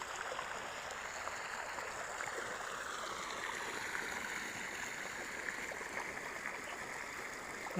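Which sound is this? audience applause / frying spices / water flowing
water flowing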